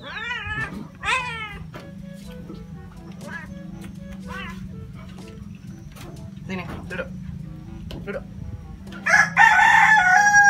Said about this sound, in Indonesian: ini kucing yang paling jinak di sini paling jinak